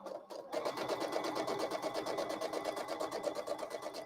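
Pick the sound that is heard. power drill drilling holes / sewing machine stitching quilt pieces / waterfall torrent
sewing machine stitching quilt pieces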